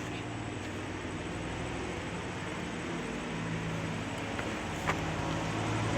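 Motor vehicle rumble and road noise from a truck pulling in on a rural mountain road in Oriental Mindoro, steady and broadband with a slight rise in loudness toward the end.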